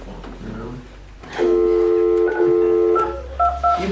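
Keypad tones from a flip phone dialing a short number at a county commissioners' meeting, a few steady beeps of varying length followed by brief quicker tones, close and clear over faint room noise after some quiet talk.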